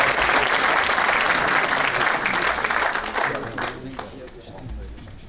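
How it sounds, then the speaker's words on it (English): Dense, loud audience applause at an award ceremony, a sustained wash of clapping from a large crowd that gradually thins and fades over several seconds. "So, Paul, give him a big applause."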